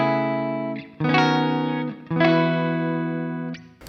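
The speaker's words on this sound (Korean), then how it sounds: "소프트 크라이라는 이름을 갖고 있네요." A clean preset called Soft Cry rings from an Enya Inspire smart guitar, sustained strummed chords sounding loud and close in three long swells with smooth decays and no voices.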